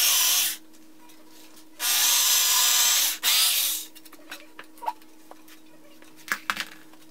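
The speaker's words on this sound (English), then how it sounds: "now we are going to drill holes for these nuts and bolts" A power drill whirs in two loud bursts, drilling bolt holes in a wooden queen-size bed frame, followed by scattered clicks and knocks of handling at close range.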